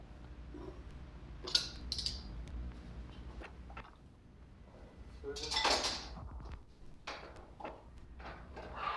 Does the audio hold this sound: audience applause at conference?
no